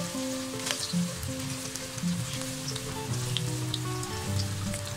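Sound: potato bites frying in hot oil

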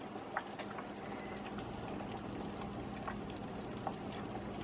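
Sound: tomato topping poured over meatloaf

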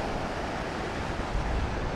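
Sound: strong wind on Swanage beach by the sea

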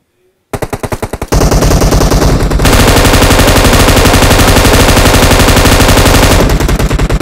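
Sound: gunfire in PUBG Mobile video game

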